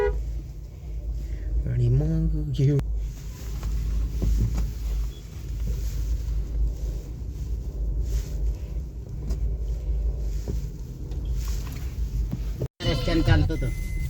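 A Hunter vehicle's engine starts and runs in a parking lot at Shegaon, giving a steady low rumble that continues under nearby conversation.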